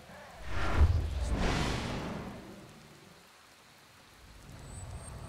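Steady rain hisses in the video game Enderal, with a couple of rolling thunder swells early on before easing back to a soft downpour.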